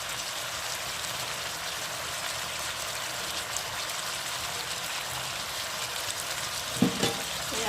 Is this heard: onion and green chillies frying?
yes